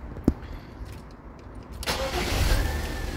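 A click, then a car engine cranks and catches, settling into a steady close idle with a low rumble.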